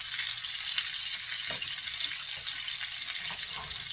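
A steak sizzles loudly and steadily in a hot pan as it is flipped and basted, a constant close frying hiss with a brief sharper clatter midway.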